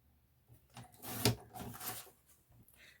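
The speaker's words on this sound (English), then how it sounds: "I'm actually going to cut that in half" A journal card is cut in half, giving a short, close scraping snip of paper lasting about a second, with a few faint rustles around it.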